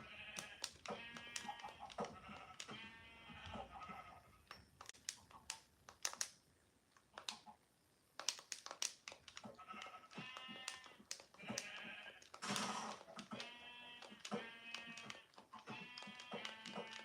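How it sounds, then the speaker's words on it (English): Minecraft sheep bleat repeatedly in short wavering calls, several in a row with brief pauses, mixed with faint clicks and taps from gameplay. "We have sheep."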